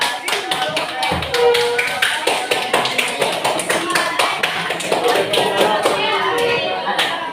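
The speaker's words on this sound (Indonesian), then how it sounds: "Kita berikan aplaus." Classroom applause for the first student group to finish presenting: a dense run of claps from many hands fills the room at a steady level, with voices faint beneath.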